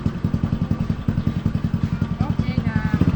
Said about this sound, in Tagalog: Ang lakas talaga ng motor ka.